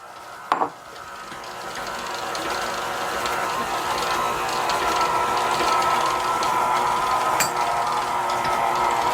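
Electric mixer creaming butter and sugar for a persimmon cake: a sharp knock at the start, then a steady rattling, whirring motor drone that runs on evenly, close and fairly loud.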